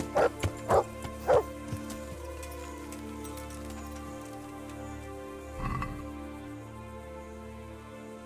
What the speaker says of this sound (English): Our dog's just out here hunting